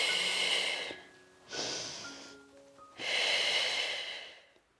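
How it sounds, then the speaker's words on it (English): Slow, deep breathing during a Pilates session, three long broadband breaths with pauses between, close and fairly loud, with faint sustained tones underneath and no talking. "we're going to flow with our breath"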